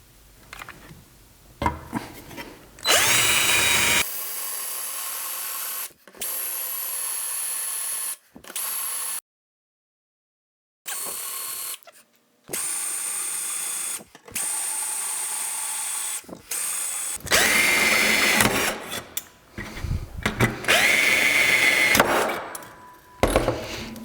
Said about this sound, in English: we're going to take a drill bit and we're going to drill it out